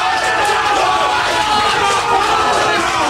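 At a World Series of Poker Europe main event table, a crowd cheers and whoops in a loud, sustained roar for a few seconds with no break.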